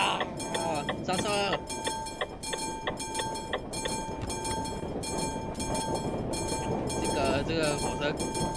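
A train in the Euro Truck Simulator 2 driving game rolls past close by, a loud steady rumble with rhythmic clacking and horn-like tones throughout, under occasional voices.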